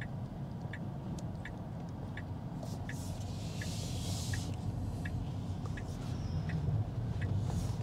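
An electric car turns into a car park entrance at a Randwick shopping centre, a steady interior road hum with a regular indicator ticking throughout, moderately loud and with no voices.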